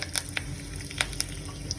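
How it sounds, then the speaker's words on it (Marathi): Curry leaves dropped into hot oil already crackling with mustard and cumin seeds for a tempering, giving a steady close sizzle broken by sharp spitting pops. "आता यात मी कडीपत्ता घालून घेते"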